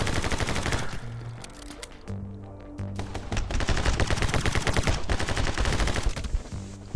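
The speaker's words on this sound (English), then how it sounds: "Guns blazing!" Rapid, loud video game gunfire from My Friend Pedro, dense volleys of shots over a driving music track, briefly easing before resuming in a heavy barrage.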